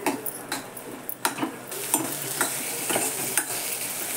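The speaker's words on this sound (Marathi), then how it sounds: "नंतर असे परतून घेते चांगले." Colocasia leaf vegetable being stirred and sautéed in a pan, with a steady low sizzle broken by repeated scraping strokes of a spoon against the metal, close and fairly loud, no voices.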